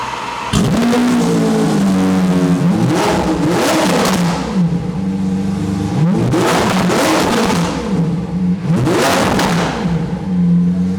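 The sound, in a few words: car engines starting, warming up and revving in a showroom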